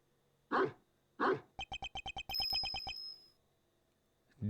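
A dog in the Ace Attorney Investigations 2 video game gives two sharp, close barks, followed by a rapid series of electronic beeping tones and a brief thump at the end.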